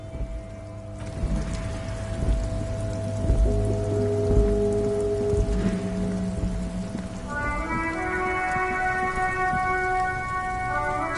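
Steady in-game rain falls in Disco Elysium, a constant broadband hiss with droplet patter, layered with sustained tonal game music and ambient drones that shift partway through; no talking.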